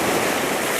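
Sea waves surge and wash along an eroding shoreline at Aceh Singkil, a dense, loud roar of rushing water mixed with wind buffeting, with no voices.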